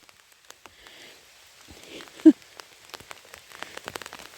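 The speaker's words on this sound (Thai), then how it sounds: "โอ้ยฝนฝนฝน" Scattered rain patters on a surface, light and irregular drops ticking near the microphone, with one louder knock midway.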